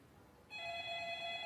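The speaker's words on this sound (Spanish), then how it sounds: "Es el teléfono." Landline telephone starting to ring, a faint steady electronic ring that cuts in sharply over quiet background noise and holds without speech.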